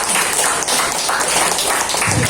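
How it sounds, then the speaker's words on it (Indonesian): A congregation applauds during a church sermon, a brief burst of many hands clapping together, loud and close, with no talk over it. "Oh, ada tepuk tangan."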